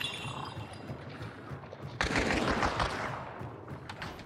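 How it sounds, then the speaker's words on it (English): Gunfire erupts between players in the video game Hunt: Showdown, a burst of overlapping shots and a sharp loud blast around the midpoint over faint background ambience, then fading out. "Shooting at each other now."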